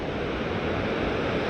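The fast-flowing Markunda river in the Himalayas rushes past in a dense, steady roar of churning water, loud and close throughout with no pauses.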